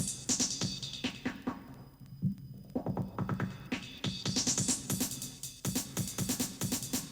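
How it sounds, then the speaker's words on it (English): Threetom modular drum pattern with its low pass filter swept, rapid percussive hits whose brightness dulls then opens up again, a busy rhythmic loop heard alone. "So the top knob here is the low pass filter, and sweeping it sounds like this."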